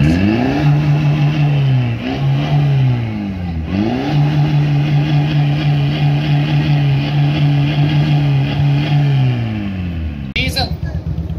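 A tuned diesel car with a 1.9 TDI engine revs hard and loud, its pitch climbing and falling in repeated sweeps over about ten seconds before dropping off abruptly near the end.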